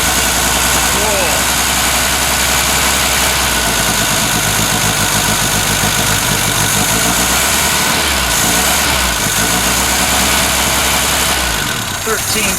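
Ford Capri MKI engine idling a little low, a steady close rumble with constant mechanical vibration throughout and faint shifts near the end, loud and continuous.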